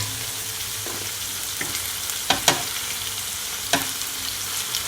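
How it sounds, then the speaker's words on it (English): Steak sears on a home hibachi grill with a continuous bright sizzle, broken by a few sharp taps and scrapes as the meat is turned, close and without talk. "Now I'm gonna turn my steak."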